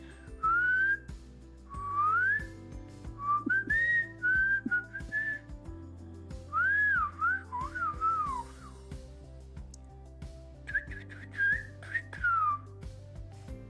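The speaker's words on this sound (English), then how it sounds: "my whistles sound very airy" A person whistles in several short, breathy melodic phrases with rising and falling slides, close and clear over a soft background music bed, pausing between bursts.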